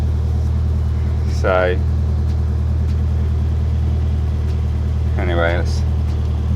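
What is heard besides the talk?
cold Toyota KE35 Corolla engine running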